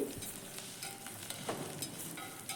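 Greens cooked with grated coconut fry and get stirred in a pan, a soft steady sizzle with faint scraping strokes, close and fairly quiet, no voices.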